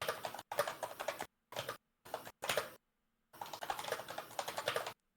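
Computer keyboard typing in bursts of rapid clicking and clacking keys, close and fairly loud, broken by short silent gaps, with no talk over it.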